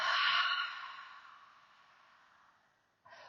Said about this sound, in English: Big breath in and exhale.